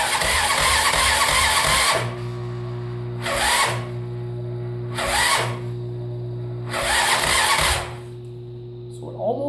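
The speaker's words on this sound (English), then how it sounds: "Okay, so now I'm going to apply power and I'm going to hit the throttle." A 2001 Yamaha Grizzly 600 ATV engine cranking under the starter without catching, a steady whirring drone broken by several loud, hissing bursts as the throttle is worked.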